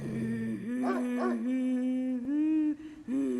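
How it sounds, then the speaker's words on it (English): A dog whines and whimpers fearfully in a horror video game, a close, loud run of high, wavering cries with short yelps, continuous over a few seconds with brief breaks. "A dog is whining like it's afraid of something."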